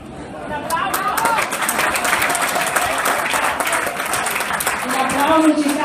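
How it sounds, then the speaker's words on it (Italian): Audience applause for Matteo at a youth cycling school gathering: steady, dense clapping from a sizable crowd lasting throughout, with some cheers and voices mixed in. "L'applauso ci sta a Matteo"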